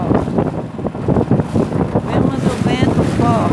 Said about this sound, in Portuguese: Vimos o vento forte.